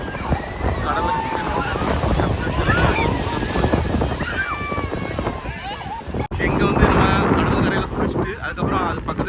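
Sea waves wash in at Tiruchendur beach, a steady broadband surf roar with wind buffeting the microphone, continuous and fairly loud throughout, with voices in the background.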